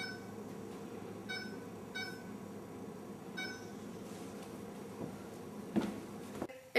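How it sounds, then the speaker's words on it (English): A kitchen oven timer is set while baking flan, giving a few short, thin beeps at uneven intervals over low room hum, followed by a clatter. "And set the timer on."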